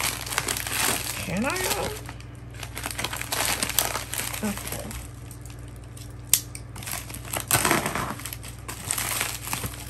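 Someone opens a Nike mailer package, with close plastic crinkling, rustling and scissor snips. A person speaks briefly between the bursts of handling.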